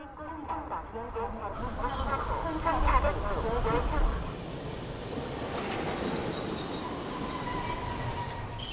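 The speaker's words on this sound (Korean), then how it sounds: "타인의 시선 따윈 관심 없다는 듯 기차는 간이역을 스쳐 지나갑니다" A train rushes through a small rural station on the line toward Jochiwon, its rumble swelling loud and close with wheel squeal and rail clatter, then easing into a steady roar.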